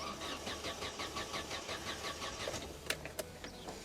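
A Vauxhall Corsa cranks repeatedly without starting, a rapid rhythmic whirring starter pulse that continues for about three seconds, followed by two sharp clicks.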